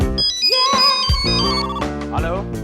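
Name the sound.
phone ringing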